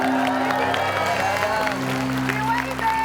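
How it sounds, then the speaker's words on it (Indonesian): A studio audience applauds at an Indonesian comedy show, a brief, dense burst of clapping under talk and background music. "Tepuk tangan."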